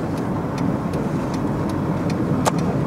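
A car heard from inside while driving, with a patient lying in the back: a steady low road and engine rumble with faint periodic ticks and a brief clunk near the end.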